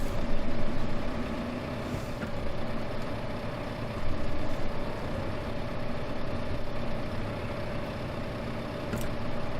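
A tractor engine in Farming Simulator 2015 runs at a steady idle-like drone, with a constant mid-low hum that stays even and fairly loud the whole time, with no voices over it.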